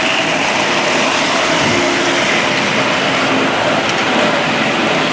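1957 Tri-ang model locomotives running on DC power along Peco track, a steady close whirring and rattling hum that stays even and unbroken throughout.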